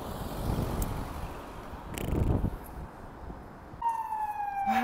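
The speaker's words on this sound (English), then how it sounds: "Siren still going on" An emergency vehicle siren rises toward the end, a wailing tone that starts after a stretch of low street rumble and grows clearer and louder.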